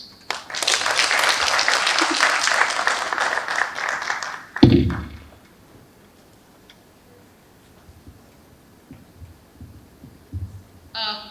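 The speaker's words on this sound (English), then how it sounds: "can we please give him another round of applause?" A conference audience at an engineering school's opening session claps for a speaker, a dense burst of applause lasting about four seconds that stops abruptly, followed by a brief thump and a quiet room with scattered faint noises.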